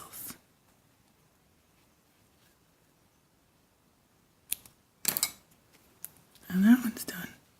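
Thread tails are snipped with scissors on a small sewing craft, a few short crisp cuts close by after a long quiet pause, with soft handling noises between.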